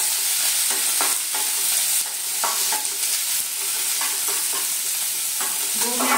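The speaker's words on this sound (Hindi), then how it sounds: "गाजर को अच्छे से फ्राई कर लीजिए" Carrots frying in a pan on lowered heat, a loud continuous sizzle with repeated scraping and knocking as they are stirred.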